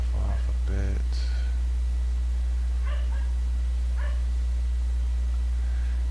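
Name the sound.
dogs barking in the backyard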